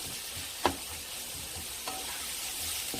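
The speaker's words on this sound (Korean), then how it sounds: "어느 정도 익어지면 양파는 거의 좀 투명해지고 당근도 열에 의해서 어느 정도 볶아지죠." Onion and carrot stir-fry in a hot pan with a steady sizzle, broken by a few sharp scrapes and clinks of the spatula against the pan.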